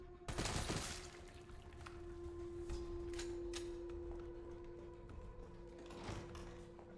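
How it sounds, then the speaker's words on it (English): Gunfire in the video game Resident Evil 3, a sharp burst of shots at the start followed by a few scattered fainter shots over a steady tonal game hum. "Shoot you in the nuts."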